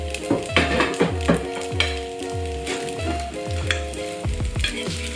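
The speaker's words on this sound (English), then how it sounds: "Give it a little final stir." Noodles and steak sizzle loudly in a hot pan while being stirred, with repeated rhythmic scrapes and clanks of the utensil over a constant bright frying hiss, close up and dense.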